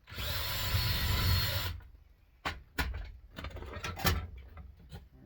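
A power drill whines loudly for under two seconds drilling out a battery pack, then cuts off, followed by scattered metallic clanks and rattles.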